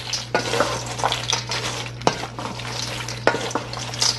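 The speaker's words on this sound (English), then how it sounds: "Yeah, so I already put the melted butter on there. Just mixing it up." Chex Mix tossed with melted butter, scraping and stirring in a pan with repeated clicks of utensil against the pan over a steady low hum, no voices.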